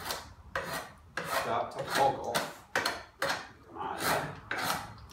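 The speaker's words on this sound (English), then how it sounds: "And now with my draw knife, I can" A draw knife shaves a wooden workpiece held in a shaving horse, with repeated rasping strokes in an uneven rhythm, close and fairly loud, and someone speaking briefly among them.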